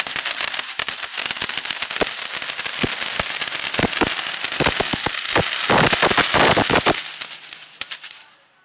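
A Vulkanparade firework goes off at a New Year's Eve party, a dense run of sharp crackles and pops that swells toward the end and then stops abruptly.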